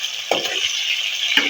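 Small chicken pieces sizzle steadily in hot oil in a pan, a close, continuous hiss broken by a few soft stirring scrapes and knocks.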